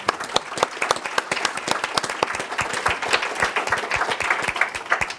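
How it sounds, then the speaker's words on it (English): An audience at a cancer-day project showcase claps warmly, a steady, moderately dense patter of hands with sharp individual claps near the listener, sustained without talk. "I think you deserve another applause from us once more"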